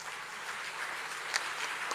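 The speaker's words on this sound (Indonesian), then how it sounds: "Lihat tepuk tangan sejati untuk Tuhan Allah." An audience at a stand-up comedy show claps in a brief, steady patter of applause, fairly soft and even throughout.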